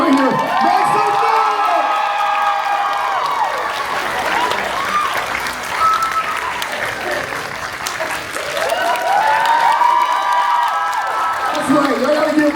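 Crowd at a Drake & Josh reunion panel applauds and cheers loudly with whoops and high shouts, voices calling over it at the start and end as the noise swells and holds.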